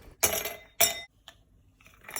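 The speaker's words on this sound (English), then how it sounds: "Take a glass in which to serve mojito and pour some ice cubes into the glass." Ice cubes tumble into a serving glass for a mojito: two sharp, bright clinks in quick succession, then a faint tap and a softer rattle of settling cubes.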